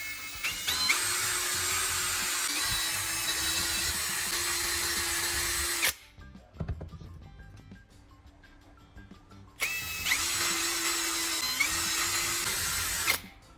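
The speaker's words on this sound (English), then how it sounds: "Take your drill and make 3 clean holes on each side of the plastic shell." A power drill whines loudly for several seconds drilling holes in a plastic shell, stops briefly amid small clatters, then whirs again at a steady high pitch.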